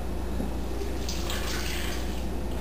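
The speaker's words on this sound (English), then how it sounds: "Now I'm going to add 1 cup of boiling water." A cup of boiling water pours steadily into thin chocolate cake batter in a bowl, giving a continuous wet splashing hiss at moderate level with no voices.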